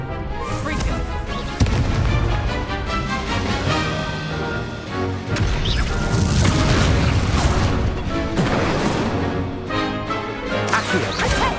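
Repeated Confringo explosion spells going off in Hogwarts Legacy, a dense run of loud booming blasts and crashes layered over busy combat noise and music, with sharp impacts near the start and middle.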